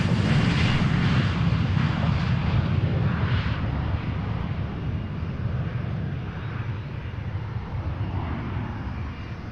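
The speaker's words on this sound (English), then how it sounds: "Lots and lots of aircraft starting to start up. Getting their APUs up and running." Aircraft engines and auxiliary power units of private jets starting up at Boeing Field, a loud continuous roar and whine from nearby planes on the apron, steady throughout.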